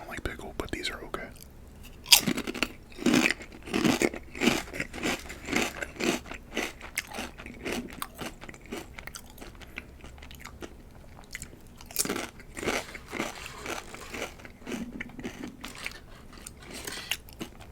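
Close, wet crunching and chewing of spicy dill pickles, with repeated bites over the whole stretch and occasional lip smacks, no talking.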